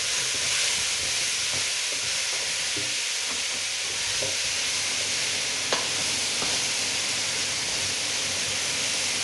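Vegetables sautéing in a pan for a fish pot-au-feu, a steady close sizzle and hiss throughout with a few faint clicks of a utensil against the pan.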